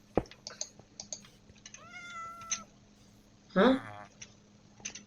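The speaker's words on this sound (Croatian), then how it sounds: "A je mačka bila." A Minecraft cat meows a few times, drawn-out and tonal, amid scattered keyboard clicks and a brief burst of voice.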